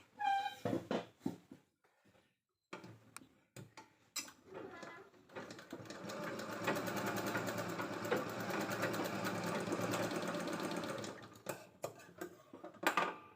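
A sewing machine runs in a steady sustained burst, stitching both sides of a narrow leftover blouse-border fabric strip, with short start-stop runs and clatter before and after the main run.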